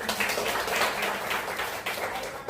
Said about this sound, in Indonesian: Aplaus lagi kelompok 1